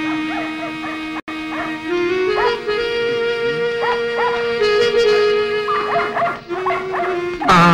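Dogs whine, yip and howl in a comedy film scene, producing loud, drawn-out tonal cries that rise and fall, broken by a brief pause early on.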